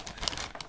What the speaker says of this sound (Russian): Стоит обратить внимание на то, какой здесь интересный пакетик.